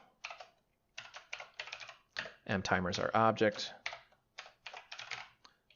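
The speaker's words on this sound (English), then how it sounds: "if me typing starts taking too long" Rapid bursts of typing on a computer keyboard, fast clicky keystrokes in short runs, with someone talking over the middle of the keystrokes.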